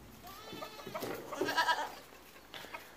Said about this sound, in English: the goats are happy to see that I'm out here.